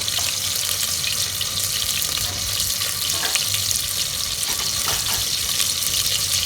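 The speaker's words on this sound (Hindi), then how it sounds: "अदरक लहसुन का डाल के इसको अच्छे से फ्राई कर लेते हैं।" Ginger garlic paste frying for a mutton karahi, giving a steady, loud, dense sizzle that carries on without a break, with faint scraping and stirring over it and no talk.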